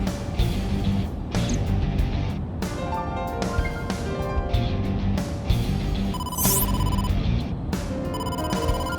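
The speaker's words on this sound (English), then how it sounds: "Date, incoming call from the boss." A phone ringtone for an incoming call in the game AI: The Somnium Files, a repeated electronic melody of bright tones ringing steadily and loudly, with no voices.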